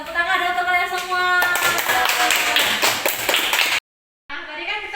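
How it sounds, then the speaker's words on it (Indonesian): Schoolchildren clapping in a classroom, rapid dense hand claps that start after a teacher's voice and continue steadily, then break off briefly into silence before sound resumes. "Tepuk tangan dong untuk kalian semua"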